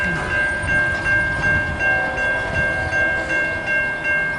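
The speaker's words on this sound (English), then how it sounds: "train's going down." A loaded CSX coal train rolls past close by with a steady roar of wagons, a sustained horn-like tone holding throughout and rhythmic wheel clatter pulsing about every half second.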